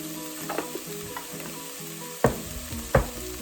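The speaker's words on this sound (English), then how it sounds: "Give it a stir." Lentil kale soup being stirred in a pot, soft scraping and sizzling with two sharper knocks of the spoon against the pot near the end, close and without talk.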